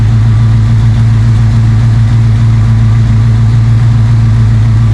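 A K5 Blazer engine idles through a new budget exhaust with loose collectors, a steady, loud, deep rumble held close and unbroken throughout.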